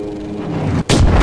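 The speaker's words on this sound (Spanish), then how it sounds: "La explosión" A heavy explosion bursts in Battlefield V, set in the Pacific battle of Iwo Jima, after a steady rumble of combat noise, hitting suddenly and loudly with a broad, roaring blast that carries on.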